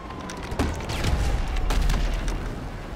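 Grenade launcher blast from GTA Online gameplay: a loud, booming explosion with gunfire-like crack, a sharp onset then a rumbling low-end roar that sustains through most of the few seconds, alongside other game noise.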